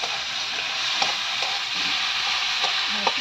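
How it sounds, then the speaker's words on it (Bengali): Yardlong beans and potatoes fry in a pan, giving a steady broadband sizzle with occasional soft stirring scrapes and clicks, close and continuous. "আর এদিকে ভাজা হচ্ছে বরবটি আলু ভাজা।"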